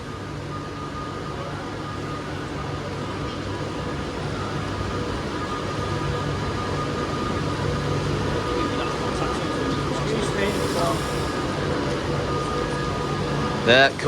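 A nine-coach Avanti West Coast passenger train rumbles steadily arriving at Stoke-on-Trent station with a low droning hum, while faint announcements and voices carry over the noise; a squeal near the end.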